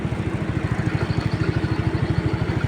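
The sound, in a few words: motorcycle engine idling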